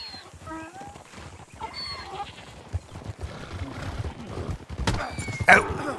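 Donkey hooves clopping during a race in Red Dead Redemption roleplay, a soft patter under game noise with brief animal cries and a rising whoosh near the end, fairly faint overall.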